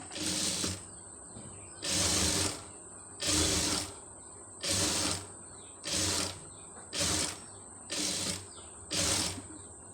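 Sewing machine stitching fabric in rhythmic bursts, about eight short mechanical runs of clattering, whirring noise separated by pauses, fairly close and alone.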